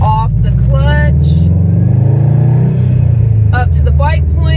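A manual car pulls away in first gear, its engine revving loud and close as the clutch comes up, while a driving instructor talks over it at the start and end.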